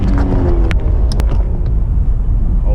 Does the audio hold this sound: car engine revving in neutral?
yes